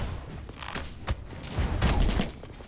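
Shotgun blasts in the Rogue Legacy 2 action game, several punchy shots at an uneven pace, layered with clattering game effects.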